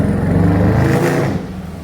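A stock-exhaust Dodge Durango SRT accelerating hard, a loud, close, continuous engine roar that builds for over a second and then eases off without any talk.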